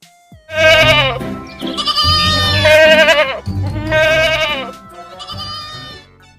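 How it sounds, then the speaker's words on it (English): A goat bleats loudly several times in a row, wavering cries close by, with a short pause between each call. "G for goat."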